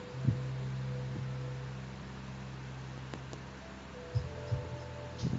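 An electric fan humming in a quiet room: a faint, steady tonal drone with a few soft thumps and knocks near the start and end.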